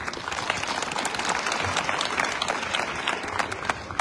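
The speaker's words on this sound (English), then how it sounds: "I think we can give him a big hand of applause." An audience claps steadily and densely for the president of SWD Athletics at an athletics track event in George, a full round of applause with no break.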